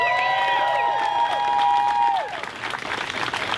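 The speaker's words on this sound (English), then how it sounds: "Can we give one more big round of applause for Joanna?" Crowd at an outdoor political rally in Santa Ana applauding and cheering, sustained dense clapping with scattered whoops, while a voice talks over the start before the applause carries on alone.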